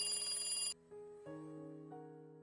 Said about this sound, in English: The phone on the desk rang